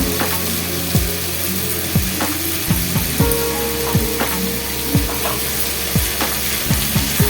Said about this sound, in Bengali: রসুনের মধ্যে দিয়ে দিচ্ছি আদা ও কাঁচা লঙ্কার পেস্ট